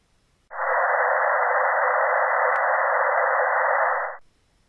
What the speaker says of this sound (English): A white noise signal, like this,